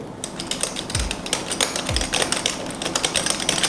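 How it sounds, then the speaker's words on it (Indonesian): Steady typing on a membrane gaming keyboard with soft, rapid keystrokes in a continuous irregular patter, close up, with a couple of heavier thumps mixed in. "ngebuat feel waktu lo ngetik pakai keyboard ini tuh asik banget"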